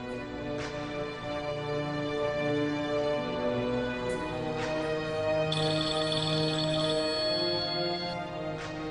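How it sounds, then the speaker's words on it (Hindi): A phone rings unanswered, its electronic ringtone looping steadily and fairly loud for several seconds, with no one speaking. "सारा फोन क्यों नहीं उठा रही"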